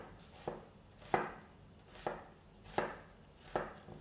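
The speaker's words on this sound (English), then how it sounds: "Just gonna chop the remaining onions." A knife chops onions on a board, five or six distinct sharp strikes at an unhurried, slightly uneven pace, close and clear with no talk.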